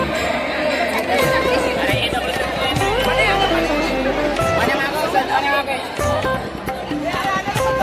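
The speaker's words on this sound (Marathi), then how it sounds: "मागं गर्दी बघू शकतो मी केवढी गर्दी आहे" A crowd of devotees at the Dagdusheth Halwai Ganpati temple in Pune fills the air with steady, close chatter and shuffling footsteps, while one voice talks over the constant murmur.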